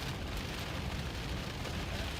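Rain pours steadily during a severe weather storm chase near the Nebraska–Kansas border, a dense, close, continuous wash of drops on surfaces with no voices.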